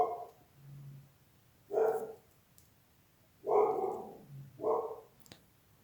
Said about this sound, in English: I call him the Garfield, he comes around the gates to bug the dogs. And the dogs go nuts